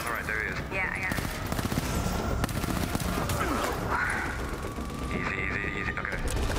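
Rapid gunfire from a video game shootout rattles steadily, with dense shot bursts and mechanical clacks under players' voices talking over the action.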